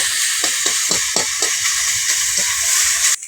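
Fish oil frying in a pan with a little water, a loud constant hiss with a run of short bubbling pops near the start, close and without voices.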